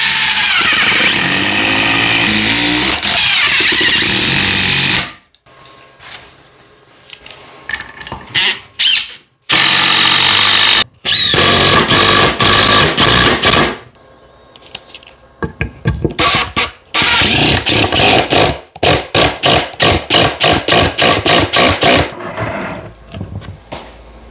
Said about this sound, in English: a first look at the new Dewalt quiet hydraulic impact